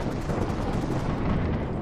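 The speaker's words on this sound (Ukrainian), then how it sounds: "З цієї турелі повинен стріляти." A heavy video-game turret fires in a rapid stream of booming, rumbling blasts, dense and continuous for under two seconds, in Minecraft.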